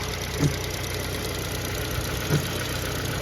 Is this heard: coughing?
no